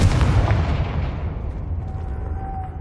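A Confringo blasting spell explodes in Hogwarts Legacy, a loud booming burst at the start that rolls off into a long, fading rumble over a few seconds.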